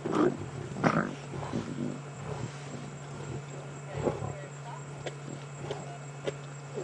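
Lions feeding on a buffalo carcass, several low rumbling roars and grunts spread across the stretch, moderately distant, over quiet outdoor background with occasional rustling and thuds.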